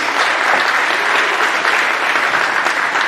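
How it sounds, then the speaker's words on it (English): A school awards assembly audience claps for scholarship students in a loud, dense, continuous burst of applause that stays even throughout. "One more big round of applause for these students."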